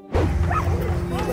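A frightened, timid dog gives a few short yips and whimpering barks, close by, with some background noise and a steady hum underneath.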